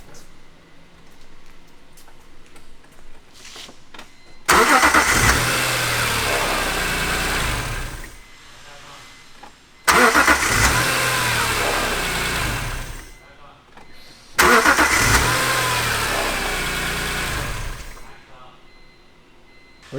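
A BMW E46 M3 engine cranks and catches three times in a row, each time running loudly up close for a few seconds before being shut off, with short quiet gaps between starts.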